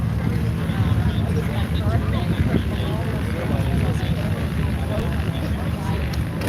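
Legend Cub light aircraft at a STOL demonstration at Sun 'n Fun, its propeller engine droning steadily throughout, mixed with outdoor crowd noise and a voice commentating over it.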